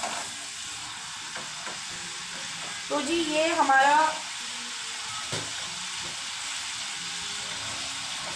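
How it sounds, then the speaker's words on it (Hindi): Chilies fry in a hot pan with a steady, close sizzle, while someone speaks briefly over it and a louder burst of spattering rises for about a second. "ये जो चिलीज़ हैं ये फ्राई हो गई हैं"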